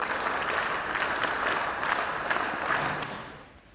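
A school audience at a computer and robotics lab inauguration claps together, a fairly soft but dense patter of many hands with a few sharper accents, fading out near the end.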